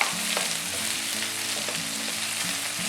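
Curry leaves and onion frying in a pan for tomato rice, an even crackling sizzle that holds steady throughout, close up and without talk.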